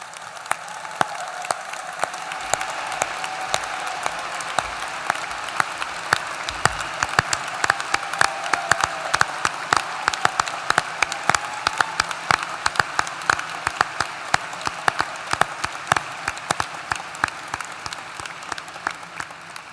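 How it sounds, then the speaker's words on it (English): Sustained, even applause from a large crowd at a university winter commencement ceremony, many hands clapping continuously with sharp individual claps standing out, no talking over it. "Thank you for waiting for that wonderful applause"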